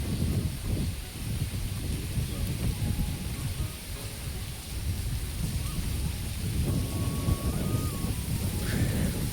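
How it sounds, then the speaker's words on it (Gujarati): Strong wind gusting across open farm fields in a Gujarat village, a continuous loud rushing roar that buffets the microphone throughout with deep rumbling surges. "બહુ પવન ઉડે"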